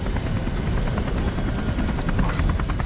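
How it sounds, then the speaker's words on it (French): A helicopter in the video game Beyond: Two Souls arrives with a loud, steady rotor roar and dense broadband wash that carries on without a break throughout. "Faut que tu descendes l'hélico."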